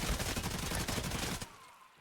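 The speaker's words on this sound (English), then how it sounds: "There's a lot of shooting going on here" Rapid gunfire in the video game Rainbow Six Siege during a competitive match on the Fort map, a dense, loud burst of repeated shots that cuts off abruptly and leaves a faint tail.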